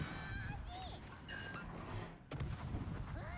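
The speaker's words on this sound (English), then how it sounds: "I'm gonna have to hope that these Yu Yang torpedoes can put him down." Torpedo hits on an enemy ship in a naval battle video game, with several muffled booming explosions and a sharper blast near the end under a man's speech and game sounds.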